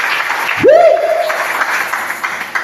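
A church congregation applauds, a steady wash of clapping that swells briefly, with a sliding whistle-like tone rising and holding across it partway through.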